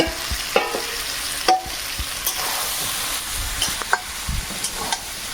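Marinated goat meat frying with spices in a pan, a steady close sizzle broken by several sharp scraping stirs and clanks of the spoon, with no voices.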